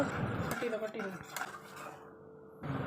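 Custard mix being stirred into thickening hot milk in a pan, close clinks and scrapes of a spoon against metal at an uneven pace, with brief faint voice.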